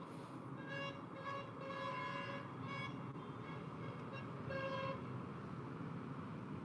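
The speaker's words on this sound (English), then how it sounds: "people are still honking" Car horns honk repeatedly amid congested Friday afternoon traffic on the North South Expressway, several tonal blasts of varying length overlapping over a steady roar of idling and creeping vehicles, with no talk over them.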